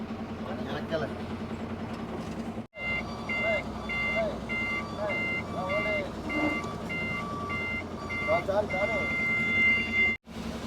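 A twelve-wheel truck manoeuvring back and forth sounds steady high reversing beeps at a regular pulse over a rumbling engine, loud and close, with someone talking throughout.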